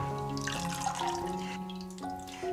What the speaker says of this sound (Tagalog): Ngayon ay tatanggalin naman natin yung tubig na binabad natin sa loob ng decorative pot.